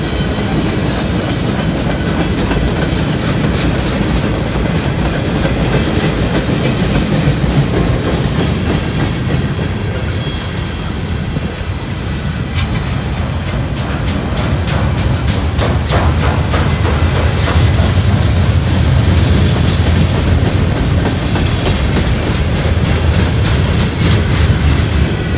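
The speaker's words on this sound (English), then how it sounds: "it seems like they could use one more locomotive on this train." Freight train on the Lima turn rolls past on a cold day, a loud steady rumble of cars with rhythmic clickety-clack of wheels over rail joints continuing throughout, with no talk.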